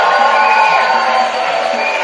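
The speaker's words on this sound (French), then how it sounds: "Avec des cris de victoire. Shout of victory." A church congregation erupts in loud, sustained shouts of victory, a dense crowd roar with some higher cheering voices, continuous and close for the whole moment.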